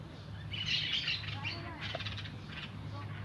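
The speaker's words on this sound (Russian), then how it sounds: "но зато хорошо слышно попугаев" Shrill, scratchy parrot calls from within the trees of the Asunción botanical garden, a burst of chattering cries at moderate distance over a low, steady background hum.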